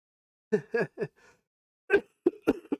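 A person coughs in a few short, sharp bursts at close range, followed after a pause by another cluster of quick coughs, with no other sound between.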